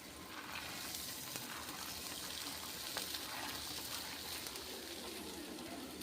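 Pigeon peas (tur) fry in hot oil with a soft, steady sizzle and faint crackling throughout, fairly quiet and close, with no voices.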